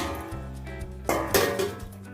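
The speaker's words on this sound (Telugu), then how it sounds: "ఇప్పుడు మూత పెట్టేస్తున్నాను" A metal lid clatters onto a cooking pot of simmering bitter gourd curry (kakarakaya gojju) in a home kitchen. A soft background hum is broken by a couple of sharp, close clanks partway through.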